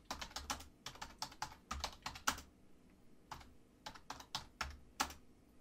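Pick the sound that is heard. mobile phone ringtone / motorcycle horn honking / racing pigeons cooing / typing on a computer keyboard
typing on a computer keyboard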